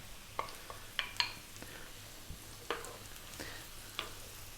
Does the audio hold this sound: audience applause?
no